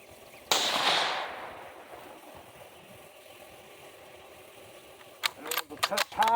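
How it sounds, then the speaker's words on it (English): A single sharp rifle shot is fired at a bullseye target through a Cvlife BearMight 6-24x50 34mm scope, a loud crack followed by a decaying outdoor echo, then quiet and a few brief clicks and handling noises. "Let's go ahead and shoot another one at the bullseye and see if it groups."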